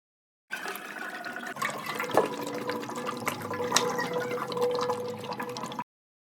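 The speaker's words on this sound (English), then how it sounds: "Now we'll put 10 liters of water." Water is poured by the litre into an emptied Royal Enfield Interceptor 650 petrol tank to clear rust, making a close, hollow, gurgling splash that sloshes and echoes inside the metal tank.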